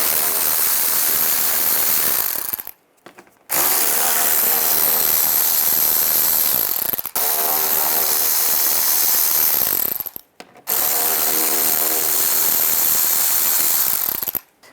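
A ratchet with a 7mm socket backs out screws from underneath a 2010-2017 Chevy Equinox during upper grille removal; loud, close, rapid clicking runs in three long bursts separated by brief pauses.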